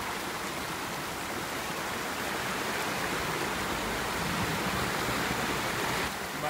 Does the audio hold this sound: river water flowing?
yes